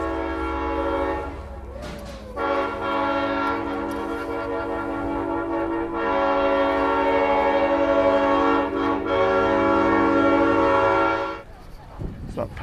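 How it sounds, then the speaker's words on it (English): A train horn blares steadily and loudly for about ten seconds at a railway museum in Perris, California, with a rumbling train beneath it and a brief burst near the end. "that train is way over where I can't get to it to film it right now"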